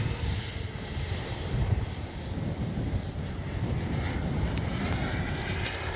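A Freewing Yak 130 RC model jet flies past in a steady, broad rushing roar mixed with wind buffeting on the microphone, holding a constant loudness throughout.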